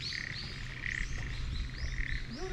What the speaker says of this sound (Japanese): カエルすごいな。